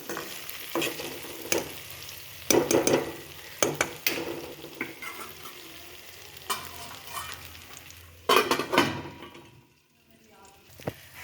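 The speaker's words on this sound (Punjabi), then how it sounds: "ਇਸ ਨੂੰ ਇੱਕ ਵਾਰੀ ਫੇਰ ਹਲਕੇ ਹੱਥਾਂ ਨਾਲ ਚਲਾਵਾਂਗੇ" Stuffed eggplant curry being stirred in a pan: a scraping spoon makes repeated rough strokes over a soft sizzle, with a few louder knocks against the pan and quieter moments between.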